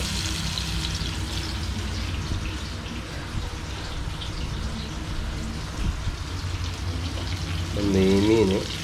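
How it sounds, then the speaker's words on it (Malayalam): Seer fish frying in hot oil in a pan, cooked Kerala style: a steady, close, rain-like hiss and crackle runs throughout, and a voice speaks briefly near the end. "നന്നായിട്ട് ചൂടായിട്ട് ചട്ടിയിലേക്ക് നമ്മൾ വറക്കാനുള്ള മീൻ ഇട്ട് കൊടുക്കാം"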